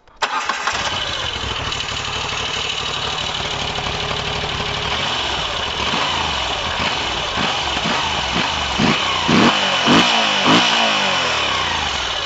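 A Moto Guzzi V85 TT motorcycle engine starts and settles into a steady, throbbing idle, with a few sharp throttle blips toward the end, recorded close by.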